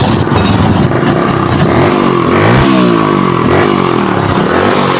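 A motorcycle engine being started and run during basic troubleshooting of a fault that limits it to about 6000 rpm, idling loud and close with a steady rough chug and a slight rise in revs midway.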